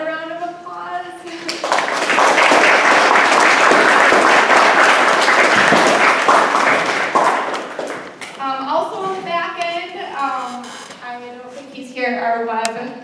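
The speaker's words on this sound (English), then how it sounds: "So everyone, please give Helen a round of applause." At a quad party, a room of guests gives a hearty round of applause that builds quickly, holds strong for several seconds, then fades as a voice resumes talking over the last scattered claps.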